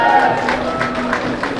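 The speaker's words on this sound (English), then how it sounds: "we can all give a round of applause" A roomful of people applauding at the reveal of a finished Lamborghini drift car with an 850hp 2JZ engine swap: a short, dense patter of clapping, close and steady, with a few louder bursts.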